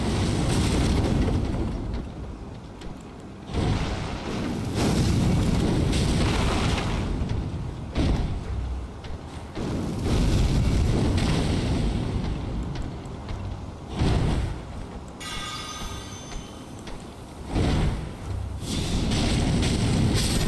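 Cannons firing in Elden Ring Reforged: heavy booming blasts repeat through about twenty seconds of loud, dense rumbling noise, with a few brief lulls between volleys.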